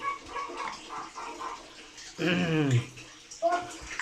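A baby's milk bottle is washed and scrubbed with water, giving a close burst of splashing and gurgling. A person talks quietly before it and again afterward.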